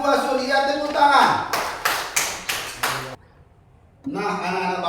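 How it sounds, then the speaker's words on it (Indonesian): Children in a classroom clap several times in a short burst of roughly four to five sharp, evenly spaced claps, following and followed by an adult voice speaking. "Iya, tepuk tangan."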